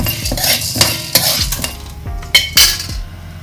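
Chana dal and black pepper are dry-roasted and stirred in a pan for milagai podi spice powder, loud scraping and clinking of a spoon against the metal over a light sizzle, with no speech.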